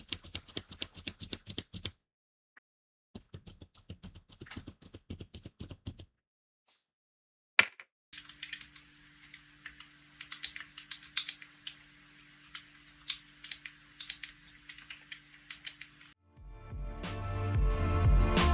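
Bursts of muted, soft clacking from a lubed mechanical keyboard being typed on, separated by pauses, with a steady hum in the later stretch.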